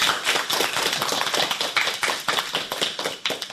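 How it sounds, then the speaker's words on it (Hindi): Schoolgirls at a girls' school programme clap loudly and continuously, a thick, crowded patter of many hands filling the room, with no talk over it. "तो एक बार जोरदार तालियां हो जाएं।"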